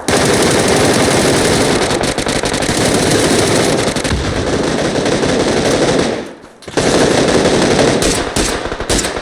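Sustained rapid automatic gunfire from a shooting video game rattles loudly and almost continuously, briefly dropping out before another dense burst of shots resumes.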